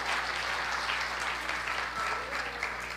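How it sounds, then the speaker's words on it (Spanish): Church congregation clapping steadily for a few seconds, a sustained even round of applause under a low hum, no speech over it. "Denle un aplauso al Señor."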